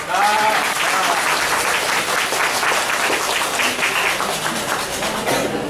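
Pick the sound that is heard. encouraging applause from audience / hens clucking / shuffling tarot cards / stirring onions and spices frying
encouraging applause from audience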